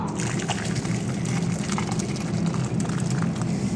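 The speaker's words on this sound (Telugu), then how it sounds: "ఇంకా దీన్ని నీళ్లు వంపేసుకొని పప్పు అయితే రుద్దేసుకుందాము" Water splashes and trickles steadily as it is poured off cooked lentils, a continuous wet gushing sound close by with no talking.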